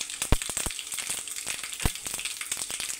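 Cumin seeds crackle and sizzle in hot oil with mustard seeds already in the pan, for an old-style South Indian lentil rasam (pappucharu): a steady frying hiss punctuated by sharp pops and a few louder bursts, close and alone.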